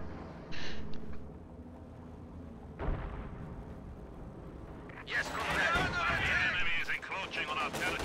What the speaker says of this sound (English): B4 firing at something over here.